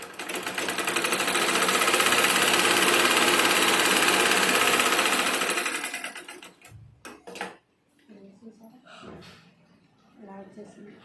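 A sewing machine stitches a blouse in a fast, steady mechanical run for about six seconds, close and loud, then stops, followed by someone talking and soft handling sounds.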